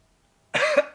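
A single sharp cough, close and abrupt, after a moment of silence, with a short second burst trailing off.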